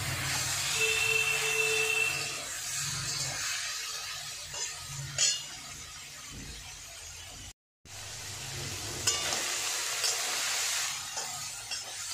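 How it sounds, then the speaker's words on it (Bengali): Small kachki fish fry in oil in a pan, giving a continuous close hiss and sizzle that rises and falls, with a few faint clinks and a brief cut in the middle. "এই যে এইভাবেই আমি ভেজে নেব।"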